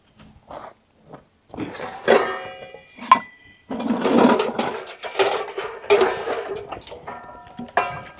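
Dishes, pots and utensils are washed by hand in a home kitchen in winter: intermittent clinks, scrapes and splashy rubbing in uneven bursts, with sharp metallic knocks between quieter pauses.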